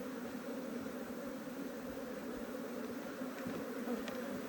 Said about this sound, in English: And the bees are starting to draw this back out.